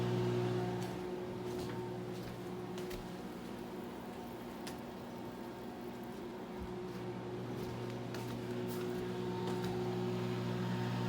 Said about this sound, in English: Juice is boiling inside the lemon.